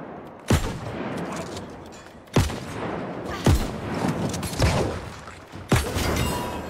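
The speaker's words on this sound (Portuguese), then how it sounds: "Esse aqui é um canhão mesmo." Five heavy cannon blasts boom at irregular intervals in the video game New World, over a constant background rumble of game sound effects.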